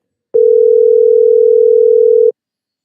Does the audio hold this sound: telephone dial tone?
yes